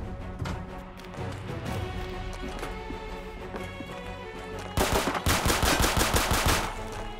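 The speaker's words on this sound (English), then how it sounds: "the gunshot brought more trouble" Gunfire in the survival video game Fallen Survival, with dense rapid shots running over a busy, loud game soundscape and a harsher, louder burst of shooting near the end.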